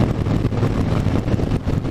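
Steady, loud wind buffeting a microphone while riding a 2020 Harley-Davidson Electra Glide motorcycle, a dense low rumble with gusty fluctuations throughout and nothing else standing out.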